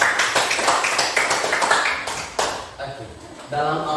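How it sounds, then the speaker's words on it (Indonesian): A classroom audience claps for a student group, a short burst of scattered hand claps near the start that soon gives way to a teacher's voice talking over the tail end. "Tepuk tangan dulu untuk kelompok 3"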